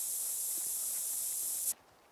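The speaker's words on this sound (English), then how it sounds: "I'm going to put on a little bit of scent spray." Scent spray in theHunter: Call of the Wild hunting game hisses in one continuous close burst for under two seconds, then cuts off abruptly into near quiet.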